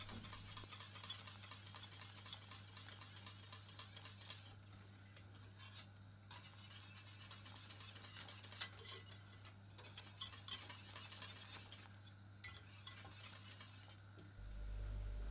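A whisk stirs roux into a red wine eel matelote sauce in a pot, giving faint, continuous scraping and swishing against the pot over a steady low background hum.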